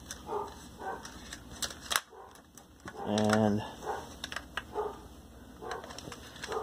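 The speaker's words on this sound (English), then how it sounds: "that particular dog only starts barking when I start to film something" A single dog bark sounds at a distance midway, briefly, among quiet clicks and handling noises while a person speaks softly.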